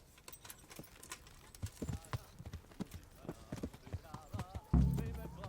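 Rhythmic horse hoofbeats in the video game Kingdom Come: Deliverance clip-clop at a trot, fairly close and moderately loud, followed by a sudden low thump near the end.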